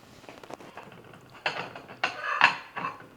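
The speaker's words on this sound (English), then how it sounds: "Slice my bread, thick sliced bread." Thick slices of bread being cut on a board, a few separate sawing and crunching strokes with sharp knocks of the knife landing, close and fairly quiet, with no talking.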